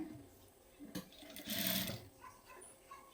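A sewing machine stitches blouse fabric in a short burst of motor whir that swells at the middle, mixed with faint room noise and a few soft knocks, with no talking over it.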